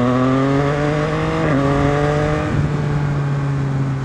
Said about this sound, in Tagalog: Kapag ganong high rev, nag-quick shifter ako from 1 to 2.